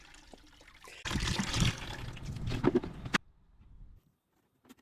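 Dirty water from an opened aquarium canister filter pours out in a gushing, splashing stream for about two seconds, then stops, leaving a quiet dribble and near silence.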